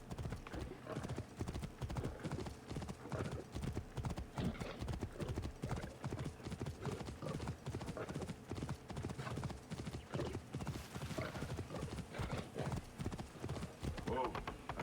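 Hooves of a horse gallop continuously in Assassin's Creed Origins, with a fast, steady clip-clop rhythm running throughout, mixed with game sounds and a player's voice talking over it.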